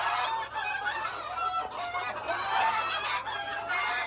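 A restless rooster of a rustic ornamental chicken breed that lays coloured eggs, with the flock clucking and calling in a continuous, varied stream nearby.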